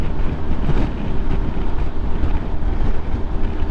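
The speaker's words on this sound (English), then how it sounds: "Man, that wind is kicking up here." Strong wind buffeting a microphone while riding a motorcycle toward a bridge, a loud, constant rumbling roar with gusty fluctuations and no speech.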